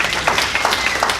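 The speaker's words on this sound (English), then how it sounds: "Clap it up for Kevin." Brief audience clapping for a speaker named Kevin at a business conference, individual hand claps distinct in a short burst.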